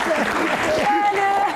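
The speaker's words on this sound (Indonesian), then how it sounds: "Oke, tepuk tangan buat Gian." Audience applause for Gian during a Q&A session, a short burst of clapping with a few voices and a whistle-like tone over it, steady and fairly close.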